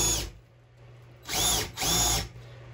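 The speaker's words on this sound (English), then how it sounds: "This drill bit seems to work a lot better than this other one" A power drill bores into a soft plastic bait cooling plate in two bursts of high whining, each about half a second, after a lower idle hum, close and loud.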